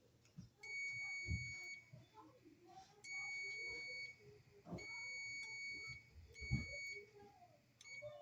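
Short electronic beeps from an emergency call button with a light being wired and tested on its terminals, three or four separate steady tones a second or so long, spaced apart, over handling noise and occasional low thumps.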